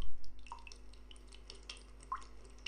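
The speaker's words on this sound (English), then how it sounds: "Yay, dripping water." Water drips in the video game Silent Hill 2: a few sparse, distinct drops falling at irregular intervals over a low, steady ambient hum.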